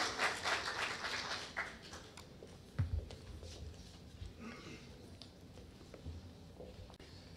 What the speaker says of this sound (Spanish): Por favor, recibamos con un voto aplauso.